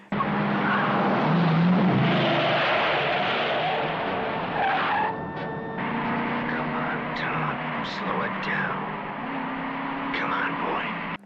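Tires skid and squeal through a car chase in the 1976 film Dixie Dynamite, with engines roaring and screeching tires rising and falling over a steady, loud film soundtrack, no voices.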